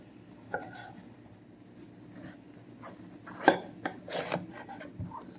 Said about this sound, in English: going to use a paring knife to cut it, to peel it, because it's really hard to peel a pumpkin with a chef knife